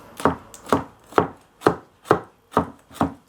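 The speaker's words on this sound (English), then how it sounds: "then we're going to just finely chop them" A knife finely chops chili on a cutting board in seven crisp, evenly spaced strokes, each a sharp close knock with a short decay, with no voices.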